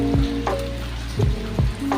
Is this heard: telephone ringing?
no